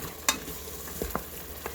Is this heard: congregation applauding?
no